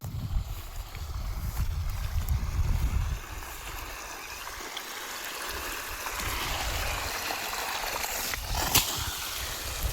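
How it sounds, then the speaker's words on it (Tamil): Irrigation water flows steadily into a farm field, a continuous rushing, gurgling wash with a heavier low churn early on, heard alone without voices. "தட்டி முடிச்சுட்டு அப்படியே தண்ணியை ஓட்டி விட ஆரம்பிச்சாச்சு."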